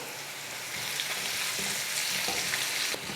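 Curry leaves fry in oil for a pongal tempering, a close, busy sizzle with crackling pops and a brief stir toward the end.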